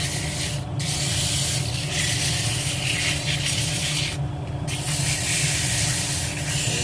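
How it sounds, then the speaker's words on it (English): Sandpaper held against a turned wooden tree spinning on a wood lathe gives a loud, continuous rushing hiss over the low hum of the machine, broken by two brief dips where the paper lifts, with no speech. "Don't sand too much on the actual trunk part or underneath the branches"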